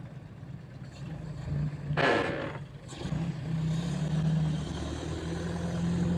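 A classic car's engine runs at a concours show at Lime Rock Park, a steady low rumble at moderate level with a brief louder burst partway through.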